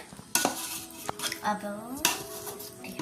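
Mango avakaya pickle with garlic pieces being mixed in a pot: metal spoon clinks, scrapes and knocks against the vessel, close and uneven, with a brief faint voice in the background.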